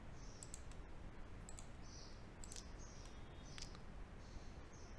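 Faint, sparse computer mouse clicks tick against a quiet room hiss, a few separate clicks spread over several seconds while a file is saved.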